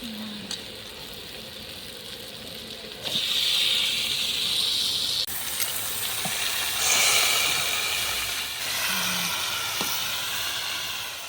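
Chicken pieces with skin dropped into a hot pan of onion, garlic, salt and turmeric, bursting into a loud, steady close sizzle and hiss that swells and persists, with occasional stirring.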